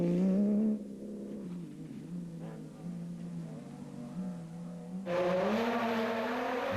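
SP class race cars at full stretch, loud engines roaring past with shifting pitch, a brief lull, then another car surging in close and strong.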